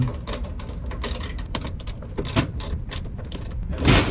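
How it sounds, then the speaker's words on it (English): A socket ratchet tightens a bolt on a GE top-loading washing machine during a start button repair, giving close, loud bursts of rapid pawl clicks in several short runs. "Now let's put our ratchet to it, right? Let's get it tightened down."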